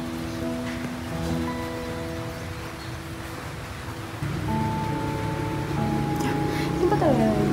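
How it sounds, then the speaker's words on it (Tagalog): Light rain drizzles at home as a soft, even hiss that runs through the whole stretch. Sustained tones sound over it, and the rain grows slightly louder partway through. "umulan. Nag-ambon, magpandong ka."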